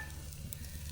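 Steady, quiet sizzling of fish frying in a pan outdoors on an uninhabited island, with faint stirring scrapes and a constant low rumble underneath.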